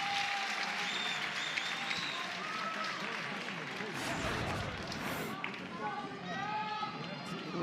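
Crowd applause for senior softball player Kinsey Hansen at an Oklahoma State versus Oklahoma college game, sustained clapping from the stands with voices and whistles mixed in, moderately distant and even.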